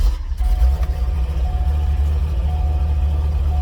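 A 2004 Corvette with 71,000 miles and a six-speed, its engine idling with a deep, steady low rumble and a slight low-end knock, close by with no one talking.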